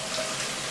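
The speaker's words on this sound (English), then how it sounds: "And we have Julie taking a shower at her college" Shower water runs steadily in a movie scene, a dense, even hiss with no pauses, close and continuous throughout.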